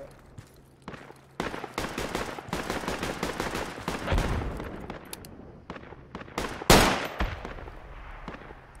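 Bursts of automatic gunfire and single shots in the Project Reality military shooter game, scattered over several seconds at varying distances, with a loud near crack toward the end and faint talk underneath.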